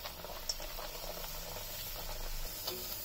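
Methi masala poori dough frying in a pan of hot oil while being pressed down, with a steady close bubbling sizzle throughout and no talking.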